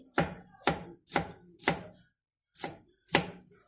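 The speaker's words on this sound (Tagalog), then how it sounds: "Naghiwa na po tayo ng ating sibuyas" A knife chops a white onion on a board in six sharp, evenly spaced strikes, close and clear, with a brief pause before the last two cuts.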